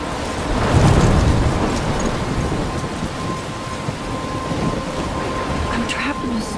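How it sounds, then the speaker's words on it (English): Thunderstorm with heavy rain in the video game Life Is Strange, a loud rumbling roll of thunder swelling early over a dense, steady downpour hiss that continues throughout, without talk. "I'm trapped in a storm?"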